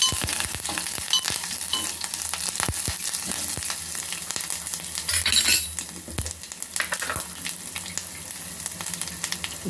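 A steady close-up sizzle of mustard seeds, cumin and fenugreek frying in oil for a pepper rasam tempering, dense crackling and popping throughout, with occasional spoon scrapes and metal clinks against the pan, no voices.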